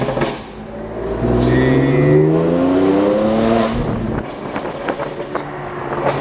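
Stage 2 tuned BMW M3 Competition with decat downpipe and loud burble tune, engine revving with rising and falling pitch sweeps, loud and close with wind buffeting the microphone.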